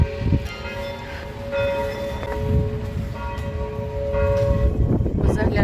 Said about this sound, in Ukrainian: 12 годин дзвони дзвонять і грає музика завжди.